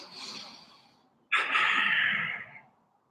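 During Kyokushin karate stretching practice, a soft breath fades out, then a sharp, deep, close inhale starts suddenly and holds for over a second.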